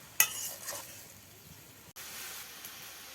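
Greens and lentils fried in oil in a pan being stirred, opening with a sharp scrape of the utensil, then a soft continuous sizzle with brief pauses.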